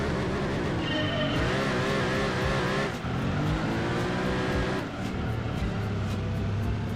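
A TVR Tuscan races in Gran Turismo 2, its engine roaring loud and constant, climbing and dropping through the gears with steady revving and a brief tire squeal, alone with no talk.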